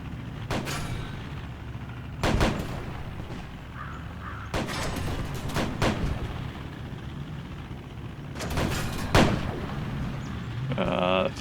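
Heavy cannon shots from a video game tank battle, several loud booming blasts spaced a few seconds apart over a steady engine rumble, with brief background game voices.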